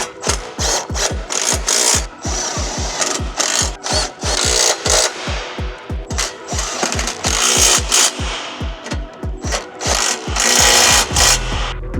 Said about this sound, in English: we'll go ahead and tighten down all of our bolts for our oil cooler guard